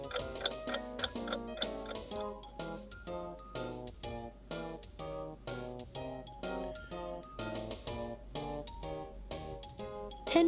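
Steady clock ticking from a computer program, heard as a regular tick-tock rhythm running evenly throughout under soft, quiet tones.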